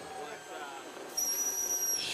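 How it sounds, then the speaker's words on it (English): Backpack whistles blown by coaches at a snowboard competition, heard as a sudden shrill steady whistle tone starting partway through and held for about a second over background crowd noise. "U.S. team coaches practicing their backpack whistles"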